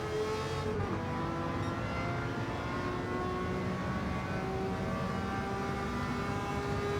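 A race car engine from Gran Turismo 7 drones continuously with shifting whining harmonics as it slows into a braking zone, a steady layered mechanical hum with no voice over it.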